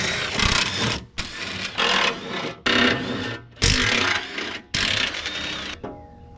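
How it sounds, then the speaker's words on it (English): Skid plates being taken off a diesel truck with tools, heard as five separate loud, close whirring mechanical bursts of about a second each, split by short silent gaps, with no talking. "Next up, gotta snatch off those skid plates."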